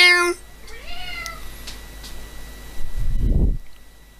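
A domestic cat meows in the background, one clear cry at the start and a thinner whine soon after, followed by a brief rustling noise.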